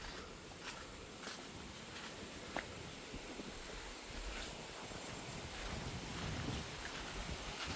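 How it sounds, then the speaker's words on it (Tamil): Wind rushes through palm trees behind a house, a continuous broadband roar with gusty buffeting against the microphone, steady and fairly loud with no voices. "இந்த பனைமரம் வந்தபடியாக அந்த காற்று வந்து நல்ல சத்தமாக இருக்குது"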